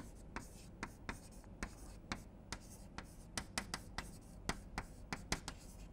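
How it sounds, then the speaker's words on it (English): A pen scratches steadily across paper in a quiet room while a Taylor series is written out by hand: short, close strokes that arrive in an uneven rhythm of little taps and scrapes, with no talking. "I will just write down the Taylor series"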